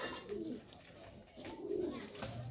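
Pigeons coo softly in a few low, rounded phrases with pauses between them, quiet and close, at a pigeon loft in Urdaneta, Pangasinan.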